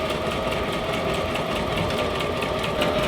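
A domestic sewing machine stitching fabric for a camper trailer interior runs with a fast, continuous mechanical whirring and rapid needle clatter, close by and steady, with no talking.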